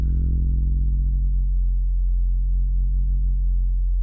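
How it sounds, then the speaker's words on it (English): A deep, sustained FM synth sine-wave bass tone hums alone, smooth with a slight wobbling movement in its low end. "it's a very weird sine wave"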